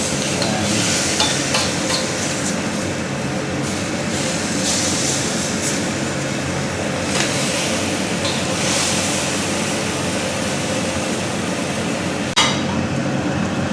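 Chicken frying in oil until golden brown for Indonesian-style adobo, a loud dense crackling sizzle that holds steady and close throughout.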